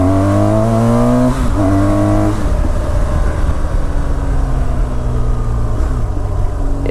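The engine of a BMW R1200GS motorcycle revs up loud and close while accelerating, rising in pitch, with brief dips between gears before it pulls on steadily.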